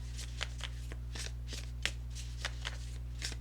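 A deck of tarot oracle cards being shuffled by hand, with a run of crisp riffling flicks and soft slaps at an irregular pace, close up over a steady low hum, with no talking.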